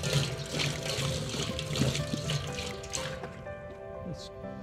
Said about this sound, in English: So just gonna put enough water in there and cider vinegar so that the crabs don't